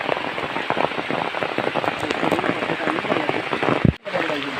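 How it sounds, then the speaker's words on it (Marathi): Heavy rain pours at night during a first-monsoon crab-catching outing, a dense steady patter close by with a brief sharp knock near the end, and voices faintly present beneath. "कुठं आहे पाऊस जाम लागतोय"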